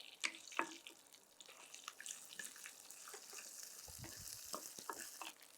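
Onions frying in oil in a home kitchen, with green chillies added, sizzling steadily while a spoon stirs them now and then, giving scattered scraping clicks close by with no talk.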